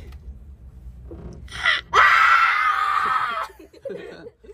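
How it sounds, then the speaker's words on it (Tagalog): A passenger screams aloud while riding a cable car at Ocean Park Hong Kong, one long, high wailing cry following a shorter shriek, with talk and laughter from companions nearby before and after. "Parang hindi naman takot yung sigaw mo."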